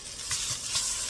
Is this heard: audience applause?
no